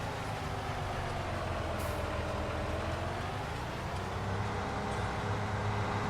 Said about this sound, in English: Two trains right in a row that quick.